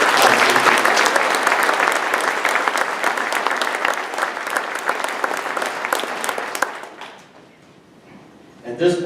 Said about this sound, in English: So if we could give them an applause.